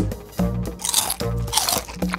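Crunchy bites into a hamburger in a food challenge, several close, loud crunching chomps in quick succession with no talking.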